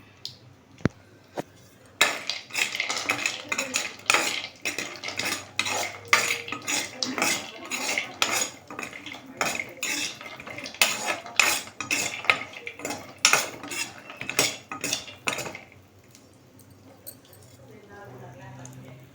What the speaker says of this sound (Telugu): కాజుని ఇలా బాగా ఫ్రై చేసుకోవాలి.